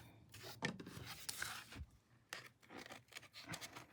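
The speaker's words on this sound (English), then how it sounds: "I'm just going to cut it down" Ribbon being trimmed down to size with scissors while making Bible tabs, giving a few soft snipping and rustling handling sounds close by, quiet and irregular, with no talking.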